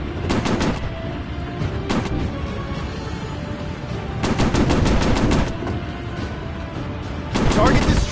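Bursts of WWII warplane machine-gun fire in a VR flight game, several rapid rattling volleys separated by short pauses, loud and close over a constant engine drone.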